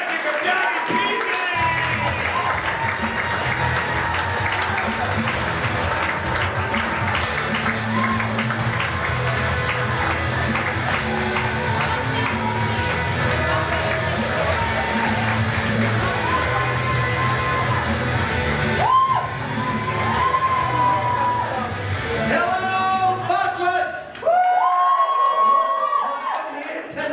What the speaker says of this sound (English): Ladies and gentlemen, start clapping your hands. Make some noise for the comedy magic of Johnny Pizzi!